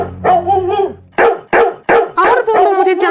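A cartoon dog barks loudly and close in a sharp series of about six barks, following a longer whining howl at the start, in a house-intruder comedy scene.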